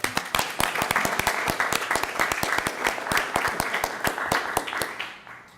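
A city council meeting audience gives a round of applause, a dense burst of many hands clapping that holds steady for several seconds before thinning out near the end.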